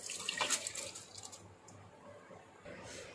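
Water is poured into a mixer jar while coconut milk rice payasam is being made, giving a soft splashing trickle that is strongest at the start, fades, then returns faintly.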